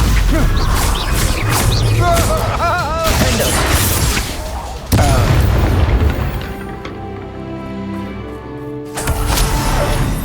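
In the video game Hogwarts Legacy, a Bombarda explosion spell bursts with heavy booms and crashing impacts amid battle effects, a loud blast near the middle followed by a quieter rumbling tail and another surge.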